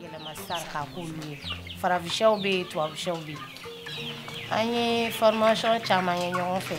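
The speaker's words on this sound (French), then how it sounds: "je m'y connais désormais en poulet de chair. Et d'ailleurs, j'en ai actuellement dans mon poulailler" Broiler chickens cluck and call inside a henhouse, several birds close by making overlapping, fairly loud clucks and drawn-out calls throughout.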